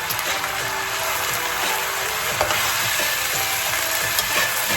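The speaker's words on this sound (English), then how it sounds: "give that a little stir" Oyster sauce stirred into a hot pan with soy sauce, giving a steady close sizzle with soft scraping stir strokes throughout and no talking.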